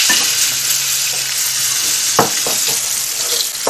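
Bonito fish fillets fry in pure butter in a pan, giving a steady, close, bright sizzle throughout with a few soft clicks of a utensil near the end.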